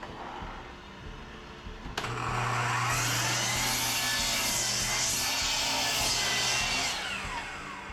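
Power saw spinning up with a sharp start, then cutting through 1x6 hemlock board, a steady loud whine and rasp that holds for several seconds before easing, close up in a workshop.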